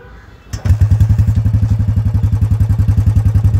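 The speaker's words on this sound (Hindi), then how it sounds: "आइडल पे कुछ इस तरह की साउंड है अपनी क्लासिक की।" A Royal Enfield Classic 350 with a modified exhaust starts up and settles into a loud, close, steady idle, its single-cylinder thump pulsing evenly about eleven times a second.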